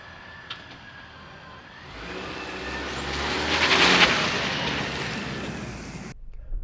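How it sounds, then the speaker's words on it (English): A Chevrolet Silverado RST pickup with a 4-cylinder engine passes on the road, swelling from a distant rumble to a loud whooshing peak, then fading before cutting off abruptly. "let's take this thing for a drive and see what it's like out on the road"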